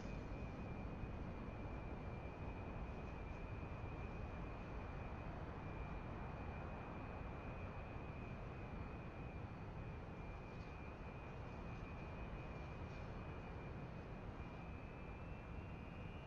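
A military jet in the DCS flight simulator rolls down the runway and lifts off, a loud, steady engine roar with a high whine running unbroken throughout.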